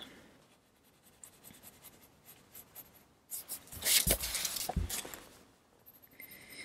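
A colored pencil scratches and rubs across paper in steady quiet strokes, growing louder and busier for a few seconds midway before easing back to soft scratching.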